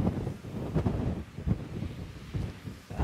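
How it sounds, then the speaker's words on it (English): Strong wind gusts buffet an exposed hilltop at Chysauster ancient village in Cornwall, with rough, continuous rumbling and flutter close to the microphone and no voices. "It's quite windy, so let's duck down."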